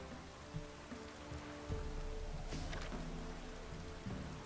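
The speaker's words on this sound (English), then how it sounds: "Looks like rain." Steady rain in the video game The Witcher 3: Wild Hunt, an even hiss of falling drops on surfaces, with faint game tones and soft ambient hum underneath.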